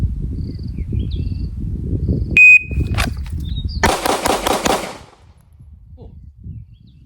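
A shot timer beeps once, then a Canik Mete MC9 L pistol fires a rapid string of about five or six loud, evenly spaced shots, with faint outdoor noise before and after.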